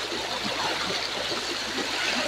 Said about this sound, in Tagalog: Malakas ang agos, oh.